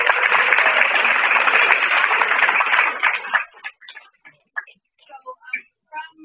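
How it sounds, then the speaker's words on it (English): An audience at a convention's Saturday evening banquet claps for scholarship committee members, a dense burst of applause for about three seconds that then breaks into a few scattered, fading claps. "So let's give them a round of applause."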